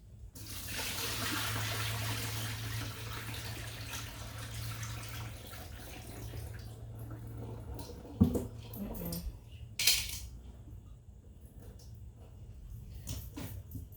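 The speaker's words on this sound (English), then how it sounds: "all I'm going to do is just dump this water off" Water dumped from a bowl of strawberries pours and splashes out in a steady rush for several seconds, followed by a couple of hollow clunks and quiet handling noises.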